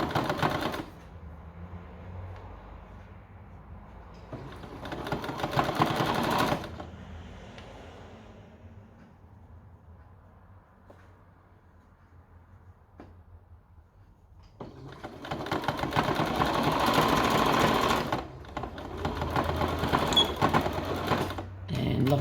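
Sewing machine stitching a Paw Patrol applique onto a T-shirt, running in two long whirring bursts separated by a quiet pause with faint handling noises.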